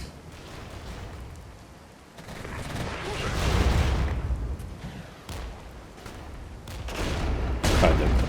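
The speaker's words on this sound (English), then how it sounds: "That's just mortars." Mortar fire in the video game Regiments: muffled explosions and rumbling blasts swell and fade in waves, mixed with crackling debris and a rain-like hiss.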